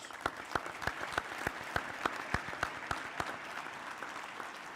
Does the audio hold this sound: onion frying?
no